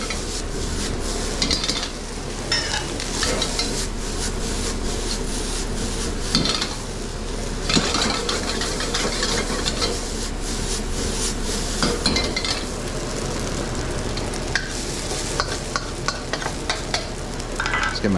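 Fried rice stirred and broken up in a wok with the back of a ladle, a continuous loud sizzle with frequent metallic scrapes and clanks of ladle against the pan.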